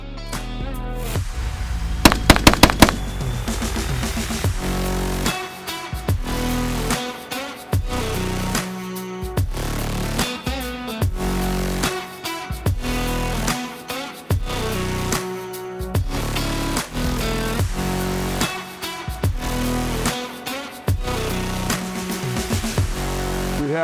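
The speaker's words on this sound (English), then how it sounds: "Let's just follow up on some shots back to back to back, seeing how it's a semi-automatic platform" NEMO Arms XO carbon semi-automatic rifle fired repeatedly at AR500 steel targets 100 yards away, a long series of sharp, loud shots in irregular back-to-back bursts.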